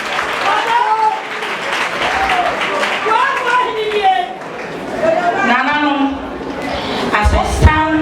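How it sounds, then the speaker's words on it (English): An audience claps in applause at an honorary doctorate ceremony for a king, steady clapping mixed with crowd chatter and a voice speaking over it. "Shall we give a clap offering unto our King Zoro?"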